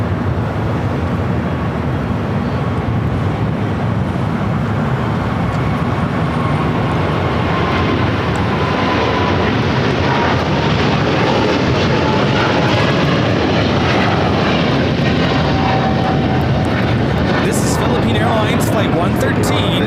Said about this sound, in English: Flight 113 taking off to Manila on a 777-300ER